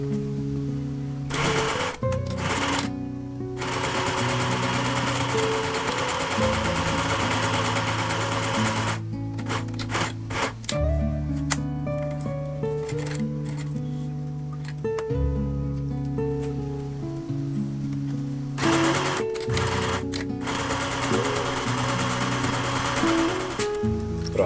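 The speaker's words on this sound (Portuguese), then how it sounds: "agora a gente vai para a máquina para fazer essa costura" Sewing machine stitching a fabric bag lining, running in long steady mechanical bursts with brief pauses between runs, loud and close with no talking.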